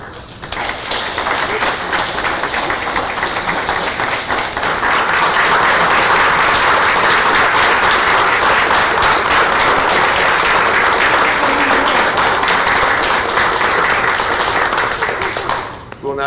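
Sustained applause from a board of education meeting audience for tenured staff, a dense steady roar of clapping that swells after a few seconds and holds loud before tapering off at the end.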